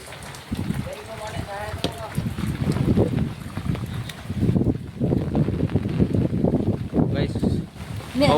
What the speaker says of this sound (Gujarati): પવન ઘણો ફૂંકાઈ રહ્યો છે